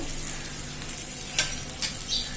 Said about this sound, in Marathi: मंद गॅसवर चांगलं शेकून द्यायचं आणि थोडंसं साईडने तेल सोडायचं आपल्याला